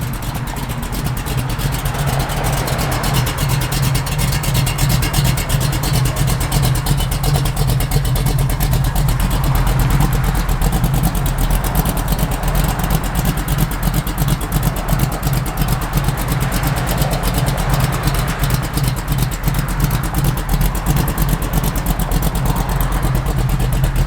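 A 1967 Chevrolet Camaro RS/SS sits idling up close, its engine holding a steady, deep, even rumble with a slight lope for the whole stretch and no voices over it.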